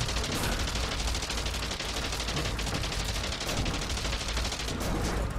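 Constant, loud, dense machine-gun fire rakes a plane in Wings Remastered, a World War I flight game, with no break across the whole stretch.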